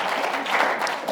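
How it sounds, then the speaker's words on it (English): An audience at a Phoenix business forum applauds a guest speaker in a short, dense, steady burst of clapping, close and loud. "Let's give Peter a big round of applause for being with us"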